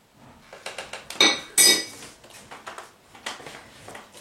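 A spoon stirs batter in a bowl with clinking strikes against the sides, two louder knocks standing out among lighter repeated scrapes and taps, close up and without speech.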